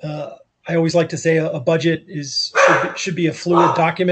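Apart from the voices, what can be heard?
dog barking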